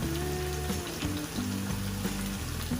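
Four chicken pieces for Albaik chicken fry in a pan with a steady, close crackling sizzle that runs without a break, and no voices.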